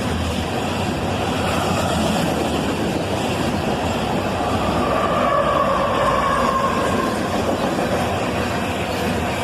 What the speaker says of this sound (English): this guy has passed us south as a single ET44AH leads this southbound train